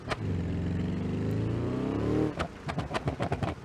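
Car engine in BeamNG.drive holding a steady, loud drone against the rev limiter, then stuttering into a rapid series of sharp bounces and pops as it hits the cutoff; no talking.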